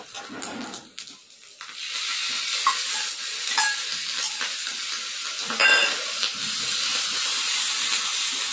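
Boiled tomato puree poured into a hot pan for tomato noodles, a sudden loud sizzle and steady frying hiss with occasional stirring scrapes, close and continuous with no talking.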